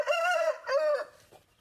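A rooster crows loudly and close, two drawn-out strained calls, then it fades into quieter clucking.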